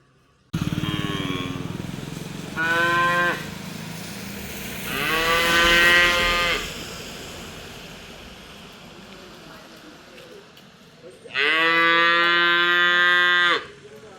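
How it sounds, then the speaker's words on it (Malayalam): A young calf cries out for its mother on a farm after two cows walk past. Four loud, close, drawn-out moos come at irregular gaps, with the last one long and strained. "നമ്മുടെ കുഞ്ഞി പശുക്കുട്ടി കരയണ കണ്ടോ"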